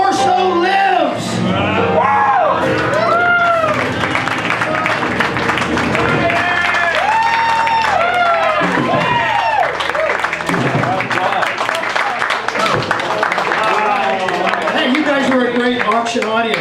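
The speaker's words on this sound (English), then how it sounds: "And another round of cheering went up" An auction audience cheers and applauds in a steady, loud wall of clapping, whoops and shouts, with voices calling out throughout.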